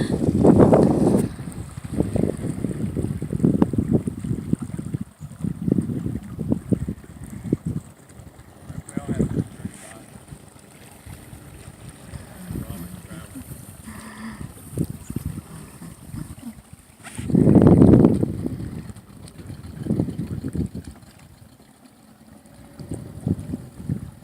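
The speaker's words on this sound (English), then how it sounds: "One of the boats is out doing a dinghy ride." A small dinghy running on open water, with a steady low motor rumble, rushing water and wind buffeting the microphone. Several loud swells come and go, and speech is heard in places.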